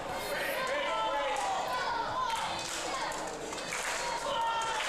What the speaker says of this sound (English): Crowd getting behind competitors here, trying to get them to rise to their feet